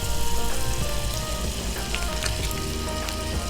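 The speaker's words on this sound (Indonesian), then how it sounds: "Nah, sudah sangat panas ya Mas Bun, sampai bersuara margarinnya." Margarine sizzles steadily in a very hot frying pan, a dense continuous crackle and hiss with scattered pops, close and loud with no talk.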